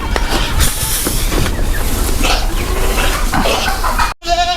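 Goats on a farm bleat loudly and close amid a busy, noisy pen, several overlapping cries over steady rumbling background, ending with a brief sharp cut before a final clear bleat.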